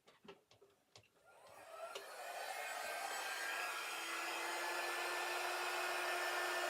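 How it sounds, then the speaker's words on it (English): A heat gun switched on after a few clicks of handling, its blower quickly rising to a steady, close, airy whoosh with a faint hum that stays even to the end. "I need to plug in my heat gun."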